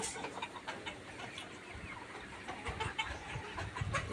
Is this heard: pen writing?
no